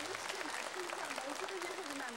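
A studio audience at a 1983 live Korean television broadcast reuniting separated families claps steadily, with a voice speaking faintly underneath the applause.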